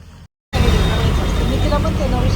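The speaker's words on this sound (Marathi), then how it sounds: "पाऊस खूप जास्त प्रचंड पडतोय" Heavy rain pours down in a village, a dense, steady roaring hiss that starts abruptly after a brief gap and continues loud and unbroken, with faint voices underneath.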